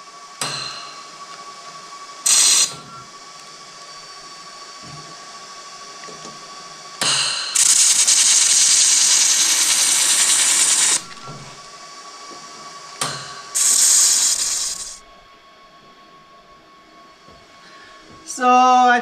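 Angle iron pieces being welded back together, with a steady close hiss and crackle of the arc in bursts lasting several seconds, plus short sharp tacks and metallic knocks between them.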